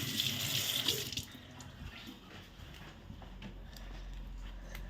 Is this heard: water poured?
yes